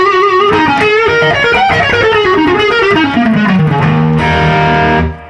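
An electric guitar runs through the Duellist dual overdrive pedal's glass setting on Drive A, giving a bright, lightly driven tone: a loud descending run of notes that ends on a sustained ringing chord, played alone.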